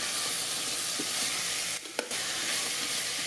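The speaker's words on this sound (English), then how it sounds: "Saute until golden brown." Onions, garlic, ginger and green chilies sizzle in oil with whole spices inside an Instant Pot Duo Mini on its sauté setting, a steady close frying hiss with a brief scrape of stirring midway.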